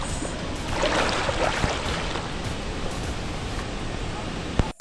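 Rushing water from a waterfall on Sumba Island, Indonesia, a steady broadband roar close by, with a brief knock near the end.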